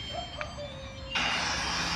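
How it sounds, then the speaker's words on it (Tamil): An electric fan is switched on in a car, producing a broad steady whooshing hiss that starts abruptly partway through and holds at moderate loudness after a quieter stretch with faint tones. "இப்போ இங்கே ஃபேனை ஆன் பண்ணுறேன்"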